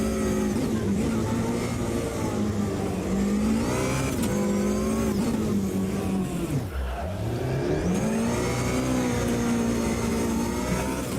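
A 2014 Honda CR-V EX in the Automobilista 2 racing game during a rallycross event, its engine droning and revving steadily with rising and falling pitch, loud and close throughout, with brief dips as gears shift.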